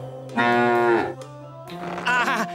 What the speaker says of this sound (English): Nice moo cow.